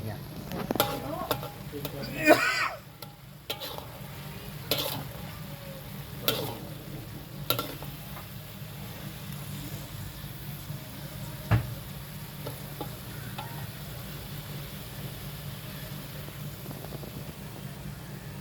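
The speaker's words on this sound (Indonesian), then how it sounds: "Dari tempenya itu digoreng terlebih dahulu guys ya" Tempeh frying in oil, a faint steady sizzle with occasional clicks and stirring knocks, fairly quiet and distant throughout.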